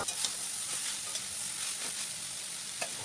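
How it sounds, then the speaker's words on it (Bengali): Sliced snake gourd fries in a pan with browned onions, giving a close, even sizzle broken by a few scraping stirs; no one speaks. "এইবার সব স্লাইস করে রাখা চিচিঙ্গাগুলো দিয়ে দিলাম।"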